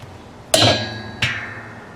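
A hammer strikes a part of a Kenmore 80 Series washer twice during reassembly, each blow a sharp metallic knock with a ringing tail, the second slightly softer.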